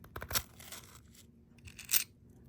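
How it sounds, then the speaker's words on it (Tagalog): Seven coins are set one by one into a dish of salt, heard here as two crisp, gritty clinks with a short crunch, close and separated by quiet. "maglalagay ka ng 7 barya mga bossing ko dito sa ating asin"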